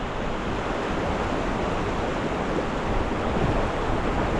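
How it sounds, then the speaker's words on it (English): Wind gusting along the Tellico River on a warm winter day, a steady broadband rush that holds constant and fairly loud throughout, with no talking. "That wind picked up a little bit."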